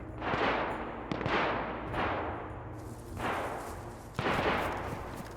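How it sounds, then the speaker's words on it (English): Several loud gunshots in the video game DayZ crack out one after another at irregular intervals, each with a sharp attack and a long echoing decay, over a low steady rumble. "We have a load of gunfire nearby."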